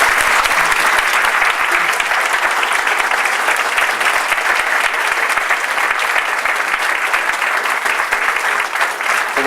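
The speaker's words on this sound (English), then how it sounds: "you deserve a huge round of applause for doing that" A seated audience at a workshop gives a long, dense round of applause, steady and loud from start to finish.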